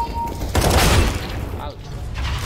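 Burst of gunfire from a rifle in the CS:GO first-person shooter, loud and close, with a sustained volley after a short lead-in and faint voice beneath.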